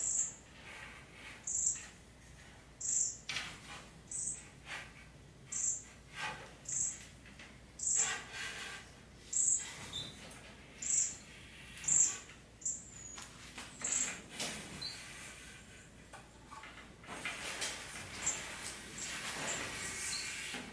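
Pet birds in a backyard aviary giving repeated high, sharp calls in a regular series of about a dozen bursts, fairly close, then fading into softer rustling and movement.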